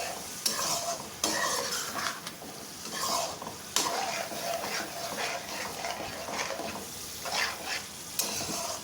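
Mutton liver kaleji masala is stir-fried in a pan, a strong, continuous sizzle under repeated scraping and knocking of a spoon against metal, irregular and close, with nobody talking.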